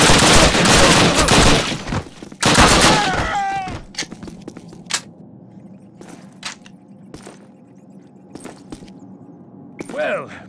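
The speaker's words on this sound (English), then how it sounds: "Covering fire!" Covering gunfire during a World War II chateau battle in Call of Duty: heavy, loud automatic bursts in the first seconds, then scattered single shots and thuds farther off, with voices and shouting mixed in.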